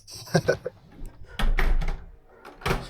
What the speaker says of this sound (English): My door wouldn't open.